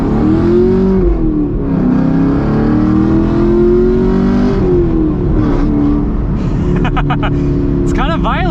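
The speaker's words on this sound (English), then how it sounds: "Oh, we'll get our acceleration here." A modified Chevy Camaro SS accelerates hard, its loud exhaust and engine drone rising and holding in pitch through a gear change, heard from inside the car with talk riding over it near the end.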